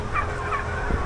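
Young farm turkey hens at a second farm site call with short nasal fowl sounds, heard up close over a steady barn background of flock noise.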